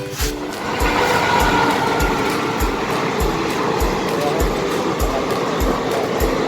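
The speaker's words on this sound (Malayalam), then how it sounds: "റെയിൽവേ അതിർത്തിയാണ് നല്ല വൈബിൽ ട്രെയിൻ പോകണം" A train rolling past a railway crossing beside a roadside tea shop, a steady broad rumble with regular rhythmic wheel clacks over several seconds, fairly close and alone without talk.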